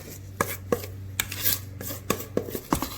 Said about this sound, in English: we're going to take our spatula, and we're just going to start spreading icing around